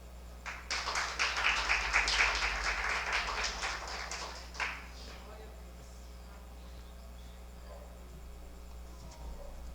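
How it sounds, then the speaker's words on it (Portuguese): A congregation applauds during a Portuguese-language revival church service: a dense burst of clapping swells for about four seconds, then fades away, leaving a steady low hum in a quiet room. "Aplauda o Senhor."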